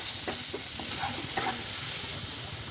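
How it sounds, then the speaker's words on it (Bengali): Spices and vegetables sautéing in a pan for a mixed vegetable curry, with a continuous close sizzle and short bursts of stirring scrapes over the frying hiss. "এবার একটু কষে নিই"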